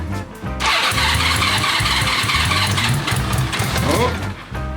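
A vintage motorcycle engine without a kickstart catches after cranking and settles into a loud, rapid, throbbing idle close by, with a voice exclaiming near the start.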